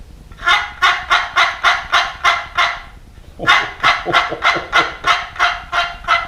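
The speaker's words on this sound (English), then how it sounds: "This turkey call is made out of all spruce, a little bit of a 2x4" A homemade all-spruce wooden turkey call, cut from a 2x4, rasps out two runs of rhythmic yelps, about eight or nine strokes each, loud and close with a short pause between.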